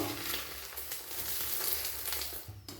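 Omelette frying in oil in a pan, a steady close sizzle and crackle that runs loud and unbroken, with a brief drop near the end.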